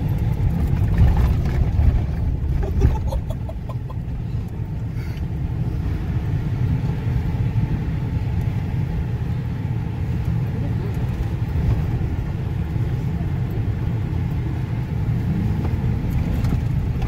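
A Ford F-250 pickup truck engine rumbles steadily and loudly while driving through dirt, a low continuous drone with slight surges in the first few seconds.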